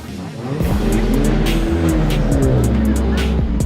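A car engine roars loudly at high revs while tires squeal in long, wavering screeches, sustained throughout as the car drifts close by at a car meetup in Bristol.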